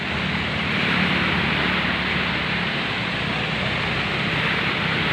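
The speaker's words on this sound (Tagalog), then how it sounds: "Malaki ang mga alon mga kaibigan." A constant roar of surf fills the clip, broad and steady like heavy waves breaking nearby, with no voices.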